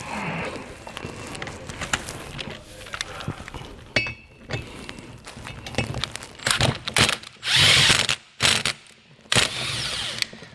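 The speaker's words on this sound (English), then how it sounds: "I'm going to put it on my impact, and I'm going to just kind of run this through" An impact driver with a hex socket runs through the threads of a hitch bolt hole on a 2022 Ram 1500 to clear them. Close, sharp whirring and hammering bursts start and stop repeatedly, with metallic clinks between them.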